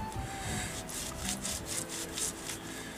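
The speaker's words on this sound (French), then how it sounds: "si je le frotte comme ça sur un caillou" Resinous grass being rubbed on a stone, a close, rhythmic scratchy rasping in repeated short strokes, with no talk.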